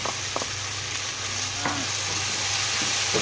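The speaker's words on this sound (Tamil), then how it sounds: "கொஞ்சம் எண்ணெயிலே நல்லா வதங்கட்டும்" Pumpkin sautéing in a little oil, a soft continuous sizzle with a few light scraping stir strokes, close and quiet, no voices.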